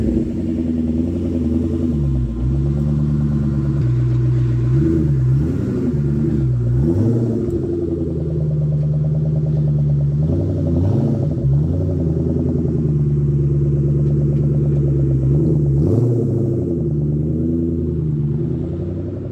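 A 2004 Mustang SVT Cobra engine drones steadily while driving, loud and close, with rising and falling pitch as it accelerates and shifts through gears, a continuous rumbling tone with no talk.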